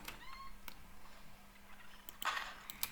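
A chicken in the Fortnite video game makes short gobbling, clucking calls, close and fairly faint over quiet game background.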